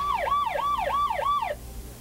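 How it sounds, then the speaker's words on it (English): A wailing police siren sweeping up and down in four quick cycles, moderately loud, then cutting off abruptly. "Should be able to hear the siren."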